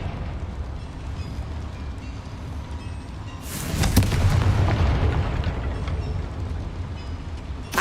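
In Hogwarts Legacy, a Confringo spell explodes in a mine: a deep, rumbling blast swells mid-clip over a steady low background and then slowly fades.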